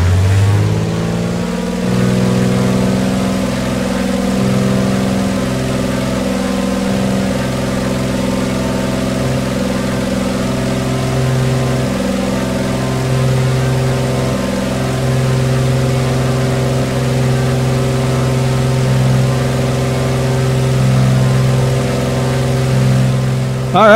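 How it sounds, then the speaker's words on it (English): Two Pratt & Whitney R1860 Hornet B radial piston engines of 575 horsepower running up in a flight simulator, a steady droning rumble with slight pulsing, loud and continuous for the whole stretch. "let's run up our two Pratt & Whitney R1860 Hornet B radial pistons, 575 horsepower"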